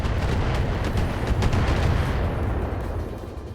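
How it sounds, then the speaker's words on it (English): A missile strikes a mech's arm and explodes in the BattleTech video game, a loud rumbling blast with crackling bursts that rolls on and slowly fades, with no speech. "So that was a missile, and it hit on the arm and blew up."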